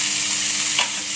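Green beans and tempeh stir-fried in a pan, a steady close sizzle with a brief scrape of the spatula partway through.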